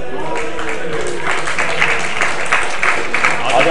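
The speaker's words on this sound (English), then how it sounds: "Let's give a cheer for the players." An esports event crowd claps and cheers for the players in a steady burst of applause, with a voice talking over it throughout.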